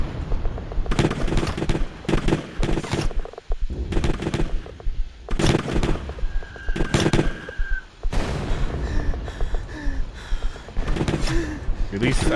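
Gunfire rings out in an indie horror video game, with repeated loud bursts of rapid shots close up and people talking over and between the volleys.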